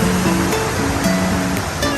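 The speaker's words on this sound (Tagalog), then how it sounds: "ito po ang ilog" Steady rushing water of a clear river fills the whole stretch, a broad continuous wash, loud and close with no voices.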